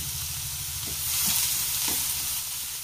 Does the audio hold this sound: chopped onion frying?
yes